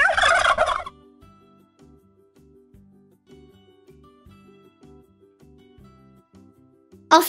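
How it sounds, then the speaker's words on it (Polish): A turkey gobbles in one loud, rapid, rattling burst, then soft plucked background music plays alone for several seconds. "Indyk."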